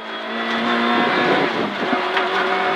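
Peugeot 106 N1 rally car on a closed special stage, its engine revving hard and climbing in pitch through gears, loud and close as heard from inside the cockpit, with a brief dip between pulls.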